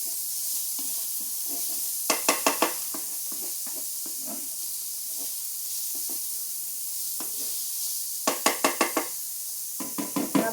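Garlic sautéing in a pan for pasta, a steady soft sizzle running throughout, broken by bursts of sharp scraping and stirring clicks from a utensil against the pan near the start and end.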